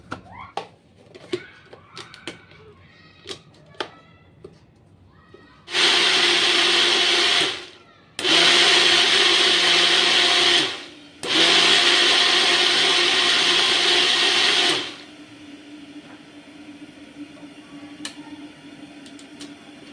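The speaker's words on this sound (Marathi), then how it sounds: "मी आता पमकिन आणि कॅरेटचं जे पल हे होतं ना तुकडे होते ना ते मिक्सरला लावून घेते" A kitchen mixer grinder blends cooked pumpkin and carrot pieces for soup, roaring loudly in three steady bursts separated by short pauses, with quiet clinks and taps before and after.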